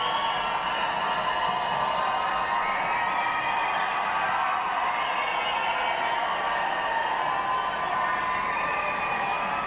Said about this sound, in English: Oh, listen to that Victor cheer